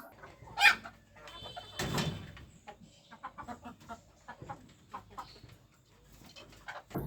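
Pigeons feeding inside a pigeon house give a burst of clucking, chattering bird calls, followed by a rustling low flurry and a run of scattered soft pecking and cooing sounds close by.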